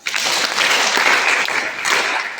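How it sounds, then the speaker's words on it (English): A classroom audience of students at a girls' secondary school applauds a classmate, a dense, lively burst of many hands clapping close by that keeps going for a couple of seconds, with no speech. "Let's clap for her."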